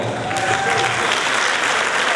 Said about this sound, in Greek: Θέλω ένα δυνατό χειροκρότημα για το σύλλογο.